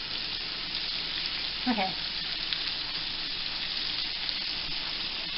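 Continuous crackling sizzle of pickle-brined chicken frying in hot oil, steady throughout, with a short spoken word near the start.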